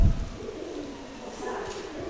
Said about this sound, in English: Pigeons everywhere.